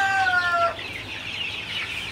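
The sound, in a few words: chickens clucking in a poultry house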